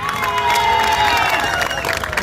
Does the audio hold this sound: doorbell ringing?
no